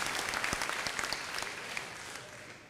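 Applause from the audience at an annual town meeting, a brief burst of many hands clapping at once that fades slightly toward the end.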